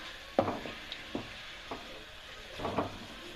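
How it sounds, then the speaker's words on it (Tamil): Carrot halwa with cashews and raisins being stirred in a pan, a few scraping, wet strokes of the spoon at irregular intervals over a faint sizzle. "முந்திரி, திராட்சை சேர்த்துக்கிட்டு ஒரு மிக்ஸ் பண்ணி விட்டுக்கலாம்"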